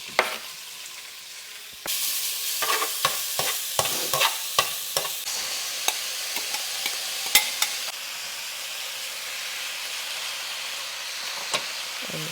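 Pork hitting hot oil with a little garlic for a stir-fry: quiet at first, then a sudden loud sizzle with repeated sharp spatula or chopstick clacks over a steady hiss, no talk.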